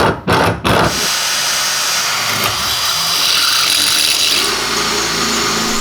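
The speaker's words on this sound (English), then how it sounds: "Now that I have the holes drilled in both pieces for the rosette welds" Power drill boring holes through metal tube pieces for rosette welds on a tube chassis prerunner, a steady loud whining drone after a couple of brief starts, continuing alone.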